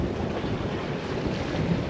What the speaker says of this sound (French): Maintenant que j'arrive, le vent se lève.